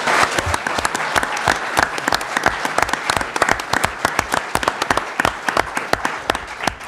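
The crowd at a 2017 Pleasant Grove mayoral and city council debate applauds the candidates: a loud, close run of distinct, fairly sparse hand claps with a rapid, irregular rhythm that carries on for several seconds.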